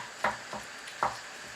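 Beef mince browning in a pan with smoked bacon, batch-cooked for bolognese and chilli: a few soft scraping stirs under a faint steady sizzle, close and quiet.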